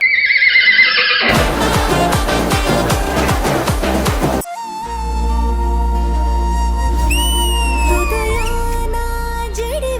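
A horse's whinny rings out loud and close during a comedy spoof of a film scene, set against a dense, loud music score.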